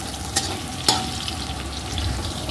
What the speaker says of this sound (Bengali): উচ্ছে ভাজাটা বসিয়েছি